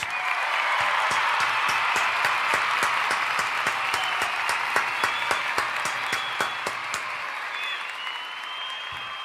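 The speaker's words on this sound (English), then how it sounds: "And we need a round of applause." A crowd applauds in a broad continuous wash with sharp, regularly spaced claps standing out on top, steady and fairly loud for the whole stretch before fading a little at the close.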